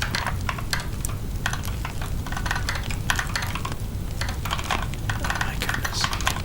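A computer keyboard is typed on up close in a rapid, uneven stream of clicky keystrokes with a steady low hum underneath, while a voice murmurs faintly at times.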